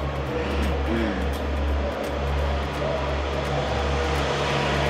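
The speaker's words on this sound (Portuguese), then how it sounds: "aí vai ela, moto da polícia" A police motorcycle passes through a road tunnel during a walking event, its engine producing a loud, steady droning roar that fills the enclosed space for the whole stretch, with no talk over it.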